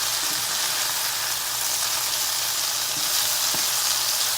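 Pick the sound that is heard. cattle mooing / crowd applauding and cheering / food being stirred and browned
food being stirred and browned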